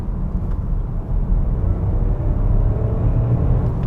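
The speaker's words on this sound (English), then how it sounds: "with it being a 1 litre engine, it has of course only got 3 cylinders as opposed to 4, so as a result it makes an unusual noise" A SEAT Ateca with a 1.0 TSI three-cylinder engine revs after dropping two gears, giving a steady low thrum and rumble heard from inside the car, fairly loud and continuous with no talking.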